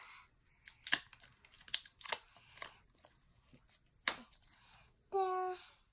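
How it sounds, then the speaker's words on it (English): Adhesive tape peeled off a package in a series of short crackling rips and crunches, fairly close and moderately loud, with a brief tonal squeak near the end and no voices over it. "I remember I need to take off this tape."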